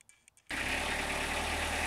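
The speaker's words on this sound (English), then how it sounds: "So the engine's just going to be running with the gearbox in motion." A narrowboat engine runs with its gearbox engaged, starting abruptly after a short quiet moment and then holding a steady, loud, dense mechanical drone with constant vibration.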